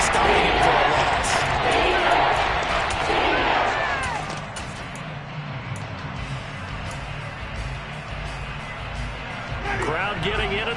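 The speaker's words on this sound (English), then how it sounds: "Crowd getting in it a bit already." Stadium crowd noise at an NFL game against the Saints builds as a dense, steady roar that swells and then settles slightly, running under continuous play-by-play commentary.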